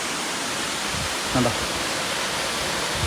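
Meenmutty Water Falls near Ponmudi pours with a dense, constant roar of falling water close by, and a voice briefly speaks over it partway through.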